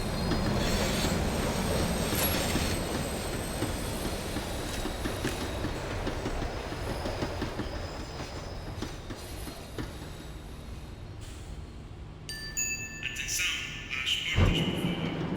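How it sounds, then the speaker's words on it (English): Tram riding on rails in the video game Max Payne 3, a sustained rumble of wheels and track with squealing metal and rhythmic clatter as it slows, thinning out toward the end before a final thud. "tram was slowing down, and I'd only just gotten on board"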